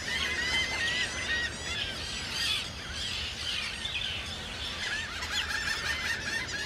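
Many Atlantic puffins and other seabirds call at once on an island colony in a dense, continuous chorus of squawks and chatter, close and busy, with a steady outdoor rumble underneath.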